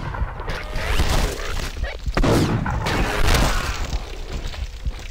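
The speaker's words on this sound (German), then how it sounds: "Volle Pulle Power aus dem Maschinengewehr" Machine gun fire in the video game SMOD Outbreak, a dense rattling burst of rapid shots mixed with booming impacts and crashes, loud and continuous.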